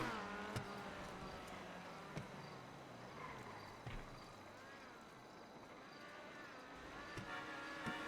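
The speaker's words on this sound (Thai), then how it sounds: "มึงดูมันขับวนกู" A car drives in circles in an open-world city video game, its engine a faint, steady drone running throughout with a few sharp clicks and taps over it.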